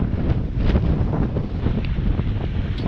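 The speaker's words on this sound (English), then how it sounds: "Because the wind's behind me and it comes up with a real big gust." Strong coastal wind buffets the microphone in loud, continuous rumbling gusts at Lilstock, with no voices, only the roaring, fluctuating rush of air.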